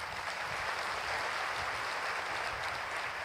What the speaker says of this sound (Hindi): तो उनके लिए एक बार ताली हो जाए ज़बरदस्त।